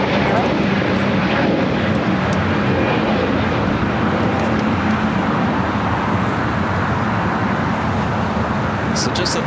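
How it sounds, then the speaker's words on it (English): An Airbus A321neo airliner takes off at LAX with a loud, steady jet engine roar, broad and continuous throughout, while someone talks over the rumble. "Viva Aerobus, A321neo, now taking off"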